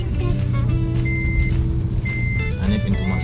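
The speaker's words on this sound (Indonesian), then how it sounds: "Jalannya agak goyang-goyang ya, karena kita pakai mobil Brio." A Honda Brio car rolls along a bumpy road leaving Mutun Beach in Lampung, with steady low cabin rumble and rattling. Voices and a faint tonal hum sit over the road noise throughout.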